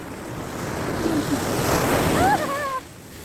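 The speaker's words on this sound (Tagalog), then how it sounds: "Lakas ng alon, guys. Ang lakas ng alon, paano kami makakaligo niyan?" Strong ocean surf pounds the beach at Aurora, Philippines, a continuous loud roar of breaking waves mixed with gusty wind buffeting the microphone.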